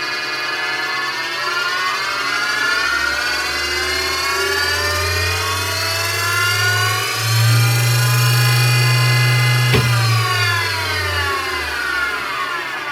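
A motor-driven spindle on a homemade electronics-club CNC machine in Norway spins up with a steady, layered electric whine that climbs in pitch, holds at speed, then eases off, with one sharp click partway through and no talk.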